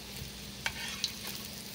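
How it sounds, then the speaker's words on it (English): Buffalo fish patties crisping in a pan of hot oil: a soft, even sizzle with two brief utensil taps, fairly quiet and close. "You just kind of crisping them back up."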